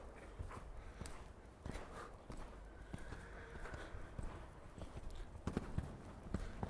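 A horse walks in a riding arena during schooling work, its hooves striking in a steady, even clip-clop rhythm that stays fairly faint and continuous.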